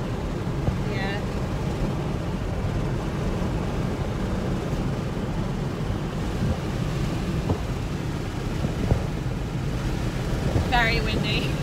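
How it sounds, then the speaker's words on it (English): Steady wind roars and buffets against the microphone throughout in northern Spain, a constant low rumble with faint bird-like chirps near the start and end. "Very windy."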